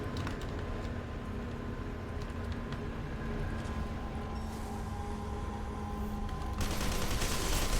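Gunfire in the first-person shooter F.E.A.R. 2 crackles in a steady, dense stream of rapid shots, continuous and fairly loud over a game soundscape, growing harsher near the end.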